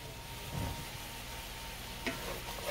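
Bananas Foster bubbling in a pan after the flame dies out, a soft steady sizzle broken by a couple of short stirring clacks.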